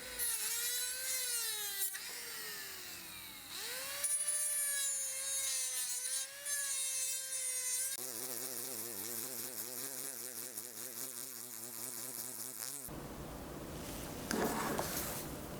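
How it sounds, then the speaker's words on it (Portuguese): A rotary mandrel with sandpaper smooths an acrylic orthodontic appliance, a steady close high-pitched whine that rises and falls in pitch, then shifts to a rougher grinding rasp with no talking. "um mandril com a lixa, para deixar o acrílico bem lisinho, preparando para o polimento"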